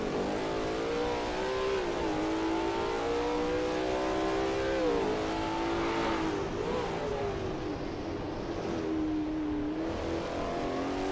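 A Lola T70 MkII Spyder race car in a video game drones around Brands Hatch GP, its engine note holding steady then dipping and climbing through gear changes and corners, loud and continuous with no voices.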